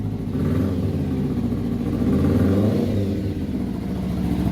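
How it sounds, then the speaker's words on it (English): A Kawasaki Ninja 300 motorcycle idles and gets a couple of revs after an oil change, a steady mid-pitched engine drone that swells and eases back, heard close with no talking. "Give it a couple revs though."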